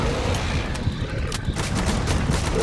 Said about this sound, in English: Is he using a varmint rifle?